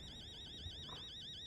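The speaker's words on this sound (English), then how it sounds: "okay, alarm." In the horror video game Fears to Fathom, an alarm rings with a faint, rapidly warbling electronic tone that pulses evenly and continuously in the background.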